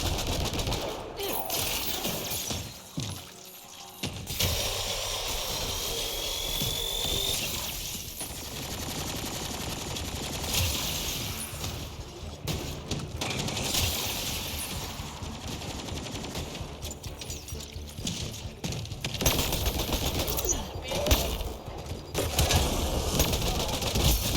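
Bursts of automatic gunfire and single shots crackle through a Mass Effect Andromeda firefight, loud and fairly continuous with a few brief lulls, and occasional speech between volleys.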